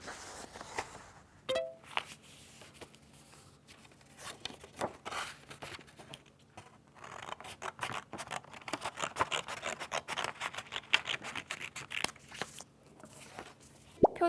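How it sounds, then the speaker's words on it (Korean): Scissors cut thick paper into a cover for a handmade picture-book menu craft, with close, repeated crisp snips and papery rustling that grow busier toward the end, with no talking. "조금 두꺼운 종이로 똑같이 이 속지의 크기와 같이 잘라서 준비해 주세요"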